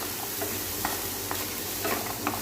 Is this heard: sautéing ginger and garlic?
yes